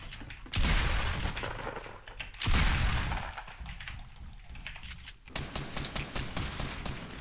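Rapid gunfire from the Fortnite video game comes in loud bursts of dense shots, pauses briefly, then returns as a choppy, clattering string of rounds.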